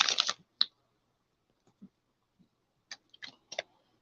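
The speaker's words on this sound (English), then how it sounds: "Let me give these a good shuffle." Tarot cards shuffled by hand in a quiet room: a dense burst of crisp riffling at the start, then sparse soft taps and a few short card snaps spaced over several seconds, close and fairly faint.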